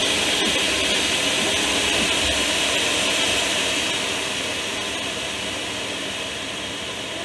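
A part cooling fan on a magnetic IDEX 3D printer runs at speed, giving a steady, close airy whoosh that holds even throughout and eases slightly toward the end.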